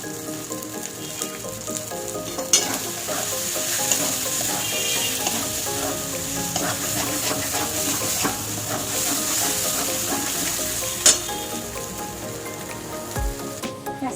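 Loitta (Bombay duck) fish jhuri sizzles and crackles steadily in a hot pan, a dense continuous frying hiss with occasional sharper pops and a few utensil clinks, close and unaccompanied by speech.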